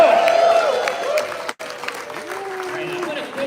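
Convention crowd at a San Diego Comic-Con panel applauding and cheering, a broad wash of clapping and voices that fills the room, with a brief dip midway and tonal sounds over it.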